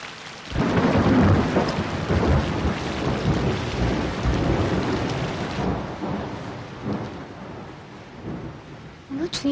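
A thunderstorm in a film scene: a steady roar of heavy rain with rumbling thunder rolling through, loud and unbroken for the whole stretch before easing slightly near the end.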